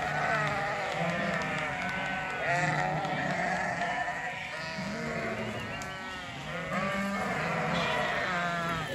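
Sheep bleat repeatedly among a flock with ram lambs being weaned, overlapping calls rising and falling close by over a steady outdoor background, with no talk.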